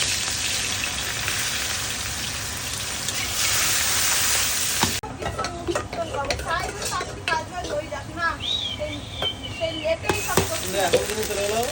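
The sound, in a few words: onions sizzling as they fry for katla fish kalia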